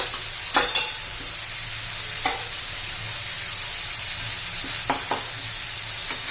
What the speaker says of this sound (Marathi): आता मोहरी घालणार आहोत आपण मोहरी अर्धा चमचा जिरा अर्धा चमचा